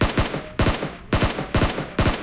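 Rapid bursts of gunfire in the battle royale video game PUBG, five loud clustered volleys spaced about half a second apart, each a sharp crack with a ringing tail.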